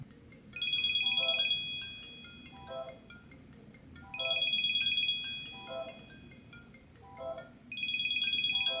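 A phone ringtone on an Apple Watch plays in three repeating bursts, a bright chiming melody sounding close and clear over a quiet background hum.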